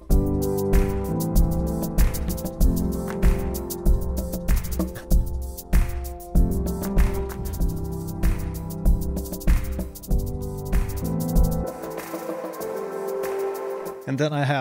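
Layered acoustic guitar samples played together on a Maschine Mk3, dense repeating plucked patterns with low and higher notes in a steady rhythmic loop, loud and continuous, alone with no voice, thinning out near the end.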